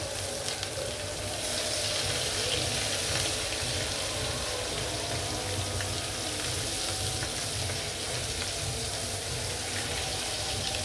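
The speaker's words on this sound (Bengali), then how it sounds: "আমার মাছটা ওই পিঠ ভাজা হোক," Hilsa fish frying in plenty of hot oil, a steady close sizzle and crackle that runs unbroken throughout with no talking.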